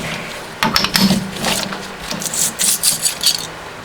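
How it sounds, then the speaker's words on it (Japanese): A hand file doing final fitting on a homemade camshaft part for a DOHC head, heard close up as a series of short, uneven rasping strokes with small metallic scrapes between them. "やっぱ最終調整はヤスリでやるといいですね"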